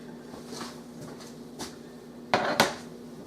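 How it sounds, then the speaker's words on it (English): A bowl of icing is set down on a counter while making a pumpkin crunch cake, with faint clinks first and then two sharp, close knocks of the bowl landing, and no voices. "Set this icing bowl down."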